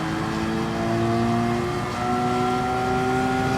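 Genesis G70 Gr.4 race car engine in Gran Turismo, a steady whirring drone that holds a near-constant pitch with a slight rise, loud and close throughout with no talk.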